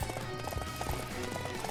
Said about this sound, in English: I like how you can still call over your horse,